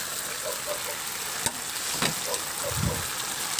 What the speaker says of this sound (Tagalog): Ihalo lang din hanggang sa maluto yung sibuyas